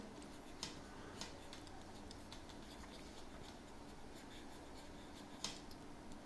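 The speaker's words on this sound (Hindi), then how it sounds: "तो अब यानी पास्ट सिंपल लिखता हूँ" Faint scratchy strokes of writing on a board in a classroom, steady soft friction with a few sharper taps, heard alone without talk.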